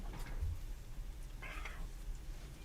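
A cat meows on a kitty cam, a short mid-pitched call near the middle of the clip over a low steady hum, faint and somewhat distant with no talk.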